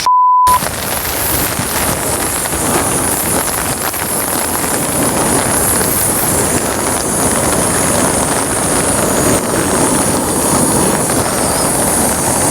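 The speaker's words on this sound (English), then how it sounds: "The wind is picking up, so this will be a good test of this windshield." Strong wind roars steadily against the microphone at a woodland campsite as rain begins, a loud, continuous rushing with gusty swells, after a brief tone at the start.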